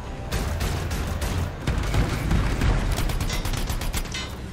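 Rockets launched in the video game Anthem, a dense, continuous barrage of booming blasts and mechanical clatter, loud and close throughout.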